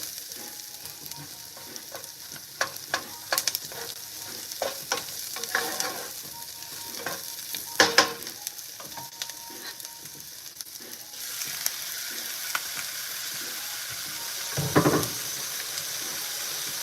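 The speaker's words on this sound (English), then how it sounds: "I'm going to throw in the beef. Or put it in the beef." Beef frying in a pan with onions, a steady sizzle underneath scattered scraping and stirring clicks from a utensil, with a brief louder clatter near the end.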